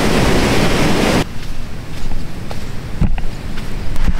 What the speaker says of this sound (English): See that wave? That was huge.